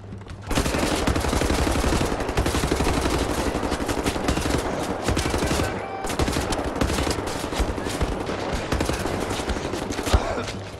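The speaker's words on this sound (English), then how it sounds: "Assault rifle." Sustained rapid assault rifle fire in the shooter Wolfenstein: The New Order, loud and dense bursts running almost continuously with a brief pause near the middle, no voices.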